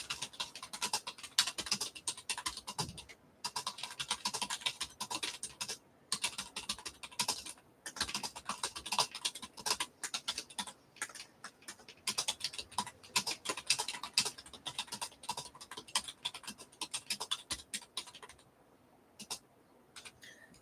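Rapid typing on a computer keyboard while pinned messages are sent, dense clusters of close key clicks with brief pauses between bursts, no voices.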